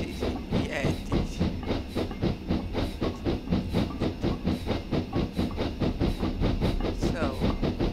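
A Fowler 4F steam locomotive in Train Simulator 2016 chuffs steadily, its rhythmic exhaust beats evenly spaced and fairly quick over a constant hiss of steam.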